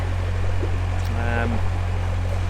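The diesel engine of a 16-ton narrowboat running at about 1400 revs, a steady low thrumming drone heard close up throughout while someone talks over it.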